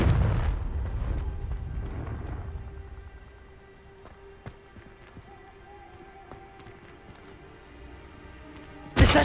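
Confringo blasting spells going off in Hogwarts Legacy: a loud burst of explosive rumble at the start, then sparse sharp magical cracks and pops over a quieter game background, ending in a sudden loud hit.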